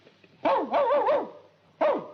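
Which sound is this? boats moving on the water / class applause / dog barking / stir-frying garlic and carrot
dog barking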